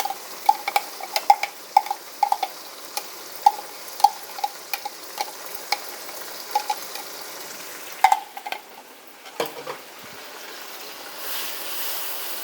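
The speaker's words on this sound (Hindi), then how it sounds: "अब इसका हमने मसाला भूनना है।" Masala with tomatoes sizzling and being stirred in a hot kadai, a steady soft frying hiss broken by regular sharp taps and scrapes of a spoon against the metal pan, close and moderately loud, without any talking.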